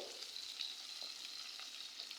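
Jatka, young hilsa fish, lightly frying in oil in a pan, a faint, even sizzle heard alone throughout.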